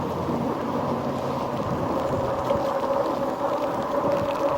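Steady wash of rain and wet tire hiss with a low rumble, continuous and fairly loud, from a Rad Power RadRover electric bike riding through rain and puddles.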